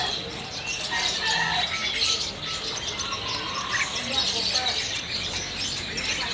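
Many canaries chirp and twitter at once in a busy, continuous chorus at a bird market stall, bright and fairly close, with a faint murmur of voices beneath.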